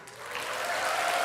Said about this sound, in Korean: 이렇게 박수로 환영해 주시니 제가 기쁨이 2배가 되는 것 같습니다